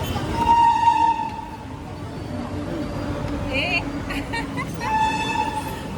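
A train horn sounds twice with a long steady tone, separated by rumbling rail noise, with voices talking in the background.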